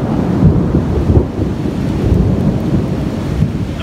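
Rain and thunder from a storm passing over a state park in Tennessee, a loud steady roar of rain with low rumbling, wind buffeting the microphone up close.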